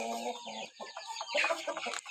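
Chickens clucking and squawking inside a chicken house, several birds calling close by in a busy, overlapping chatter with a sharper call near the end.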